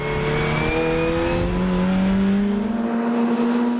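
Race cars in a BeTrophy race at the Mettet circuit roar close by during an overtaking move, their loud engines droning and shifting pitch continuously as they run side by side, with no voices.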